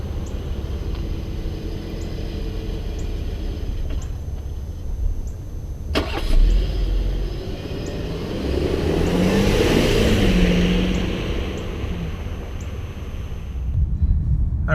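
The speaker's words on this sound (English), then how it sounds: "here we have what the auto start stop looks like from the outside" A 2018 Volkswagen Atlas SUV heard from outside as its auto start-stop system cycles, with a steady engine hum, a sharp transient near the middle, and a fuller swell of engine sound as it restarts, fairly close and without talk.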